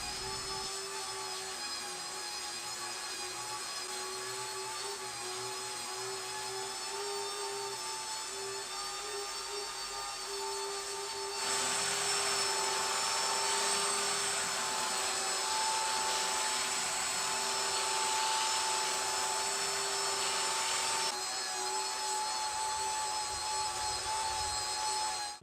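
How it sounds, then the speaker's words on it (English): Belt sander working across the underside of a live-edge wooden coffee tabletop, a loud steady droning whine with a high tonal hum that holds for the whole stretch and grows louder and brighter partway through, no talking. "So right now I'm just going over it with the belt sander."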